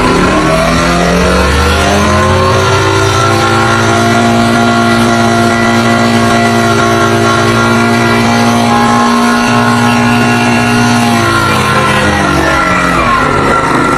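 A Honda CD 70 motorcycle engine revs loud and close during a carburetor jet adjustment, its pitch climbing and holding high before easing down, with steady harmonic drone throughout.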